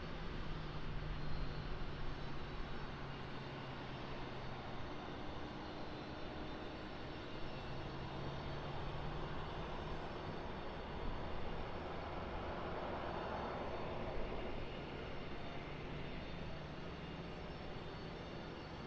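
An airliner touching down and rolling out on the runway, heard from a distance as a steady, moderately loud engine rumble and wash that swells slightly midway, with no voices.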